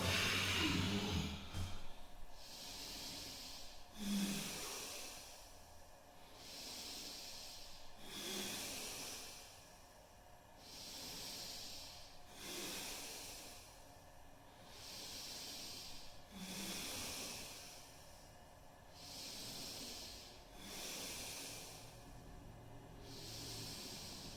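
Slow, deep yoga breaths during a studio practice, each long airy exhale recurring in a steady rhythm about every four seconds, close and soft with no talking.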